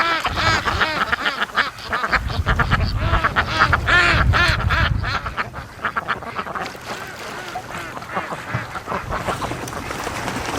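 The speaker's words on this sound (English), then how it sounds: "Look at the duckies." A flock of ducks quacks busily and continuously nearby, overlapping calls rising and falling, with some honking mixed in and no talking over them.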